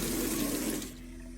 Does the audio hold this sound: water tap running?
yes